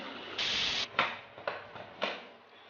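A lidded pressure cooker of cauliflower and mutton hisses as it cooks: one sustained half-second jet of steam followed by three shorter, sharp puffs spaced about half a second apart, close and fairly loud.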